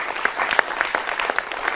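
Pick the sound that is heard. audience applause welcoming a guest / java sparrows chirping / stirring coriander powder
audience applause welcoming a guest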